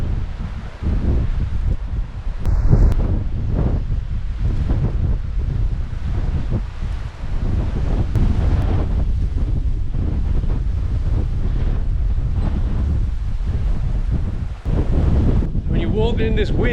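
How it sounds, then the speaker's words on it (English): Strong wind on the Lindisfarne coast of Holy Island, Northumberland, buffeting the microphone in loud, sustained roaring gusts, with surf rumbling underneath and a brief lull near the end. "When you're walking in this wind, getting battered, take something out here. It's well windy."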